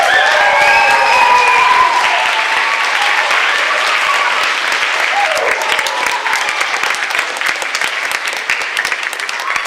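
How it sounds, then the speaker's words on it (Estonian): A school Christmas party audience gives loud, sustained applause to the participants and the 8th grade class. The dense clapping is strongest at first and thins slightly toward the end, with a few cheering voices. "siin osas suur aplaus kõikidele osalejatele ja suurim aplaus 8. klassile"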